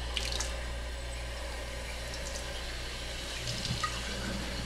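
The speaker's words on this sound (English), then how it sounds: "take those bottles while they're still wet and put them under running water" Warm water runs steadily from a tap into fermentation bottles being rinsed for sanitizing, a continuous close splashing stream with low background hum and no talking.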